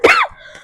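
A single short cough from a woman with a cold, close and loud, trailing off into faint breathy noise.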